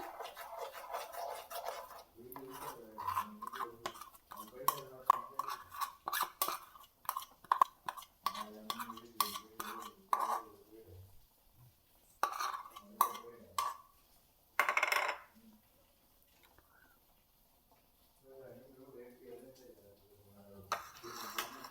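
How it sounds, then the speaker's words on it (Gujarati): Milk is stirred in a pan for rabdi kheer, with bursts of scraping and clinking from a spoon against the metal, broken by several quiet pauses, close and soft. "આપણે પહેલાં દૂધ નાખી અને મિક્સ કરી લેવાનું છે"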